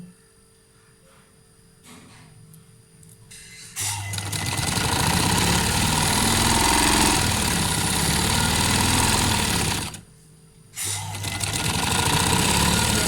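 A sewing machine stitching a trouser, with a steady loud mechanical whir running for several seconds, a brief pause, then starting again, close up, after a quieter stretch at the start.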